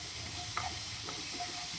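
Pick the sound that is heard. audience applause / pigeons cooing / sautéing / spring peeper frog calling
sautéing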